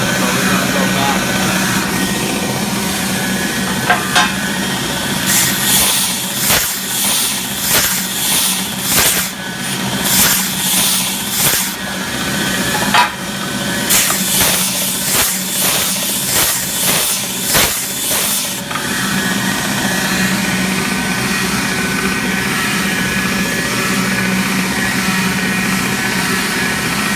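A grinder working a small box in repeated bursts, harsh hissing grinds rising and falling through the middle of the clip over a constant background hum.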